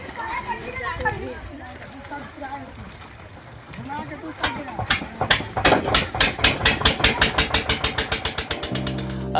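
A motor boat engine on a village river crossing in Murshidabad starts up and chugs loudly with a fast, steady pulsing beat as the boat pulls away, following a stretch of people talking and children's voices nearby.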